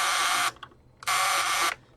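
A broken Dustbuster-type handheld vacuum with a jammed mechanism gives two loud, harsh bursts of rough whirring, separated by a short near-silent gap, close up.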